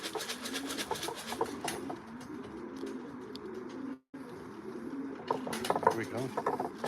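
Pigeons coo softly inside a pigeon loft, a low repeated burbling over steady rustling and wing movement, fairly quiet, with a brief dropout midway before the flock sounds return.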